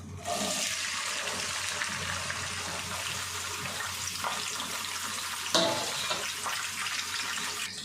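Chopped onions and green chillies, added after cumin seeds, sizzle in hot oil in a pan for a stuffed brinjal curry, giving a loud, steady frying hiss throughout, with no voices.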